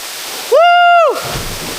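Bantakay Falls pours as a steady, loud rushing wash, with a single voice letting out a brief whoop over the roar.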